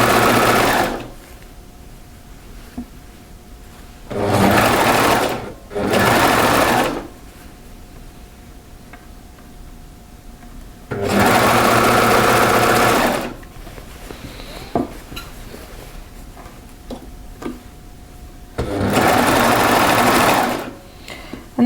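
A sewing machine, run with its cutting knife, stitches a seam in a French terry sweater in four separate loud bursts, each a few seconds long, with quiet stretches between them.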